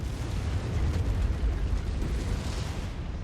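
A destroyed mech exploding in MechWarrior: a dense, rumbling blast that roars steadily for a few seconds at moderate loudness, with no talk.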